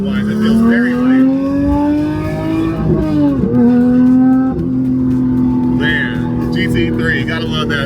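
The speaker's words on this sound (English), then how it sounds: "GT3, gotta love that sound, man. It's one of the best sounding cars out there, especially for a 6-cylinder." The six-cylinder engine of a Porsche 911 992.1 GT3 revs and holds a loud, smooth, rising wail close by. There are brief dips between gears, and a voice can be heard under it.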